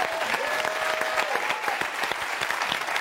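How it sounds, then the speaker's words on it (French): Studio audience applauding comedian Sophia Aram on a French television talk show, steady dense clapping throughout with a faint sustained tone running under it. "C'était Sophia Aram, on l'applaudit"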